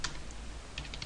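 Quick keystrokes on a computer keyboard while typing a router command in network simulation software, a few clustered clicks at the start and a short burst near the end over a low steady hum, close and fairly soft.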